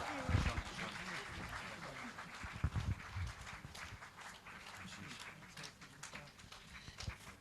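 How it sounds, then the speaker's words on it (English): Audience at an India's Teen Spirit conclave in Birla applauds an honoree from the education world, a steady wash of clapping running throughout, mixed with crowd noise and someone talking over it. "Can we have a big round of applause for her?"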